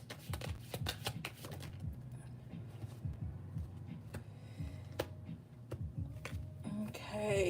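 Tarot cards being shuffled by hand, a run of close, soft riffling and tapping bursts over a steady low hum, with a few sharper card snaps scattered through.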